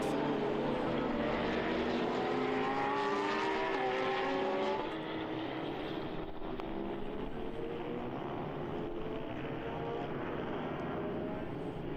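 A KTM run by Yannick Motorsport and a GT Sports Technology Porsche 992 Cup race car battle at the Red Bull Ring during an endurance race. Their engines whine and rise in pitch as they pass, then fade, under steady commentary.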